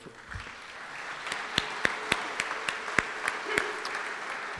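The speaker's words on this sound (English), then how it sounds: "Let's give her a round of applause." Scattered applause from an audience at a 9/11 remembrance ceremony in Brooklyn, a handful of sharp claps standing out over a thin, moderately distant background of clapping.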